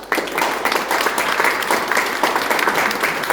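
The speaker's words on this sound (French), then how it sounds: "on peut effectivement saluer son initiative et l'applaudir fort" A crowd at a commemoration ceremony for deportees claps warmly, a full, steady burst of many hands, close and loud for the whole stretch.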